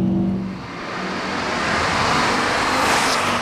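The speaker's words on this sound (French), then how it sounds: "les bruits d'admission pénètrent dans l'habitacle à la moindre sollicitation de l'accélérateur" A 2006 Ford Focus ST with the 225 hp engine accelerating, its intake noise a broad, continuous roar heard from inside the cabin that swells and stays loud for the full few seconds, with no talking.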